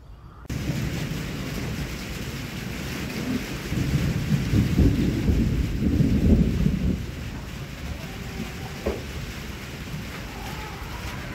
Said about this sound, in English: thunder just roared, and right before then lightning flashed